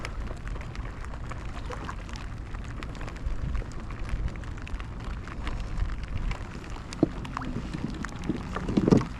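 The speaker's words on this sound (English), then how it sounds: "this rain's really getting itself together now." Steady rain patters in a dense wash outdoors at Swansea Bay, with occasional louder drops and faint knocks near the end, no one speaking.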